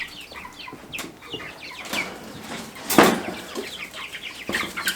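Chickens cluck and squawk close by in a brooder in short, scattered bursts, with a flurry of wing flapping in the middle.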